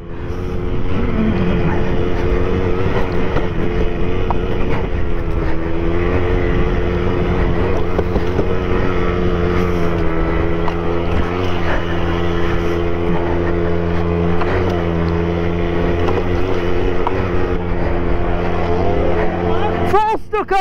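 A moped racing in a four-hour charity enduro has its throttle stuck open, giving a loud, constant high-revving engine drone that holds steady and close for the whole stretch, with voices shouting over it.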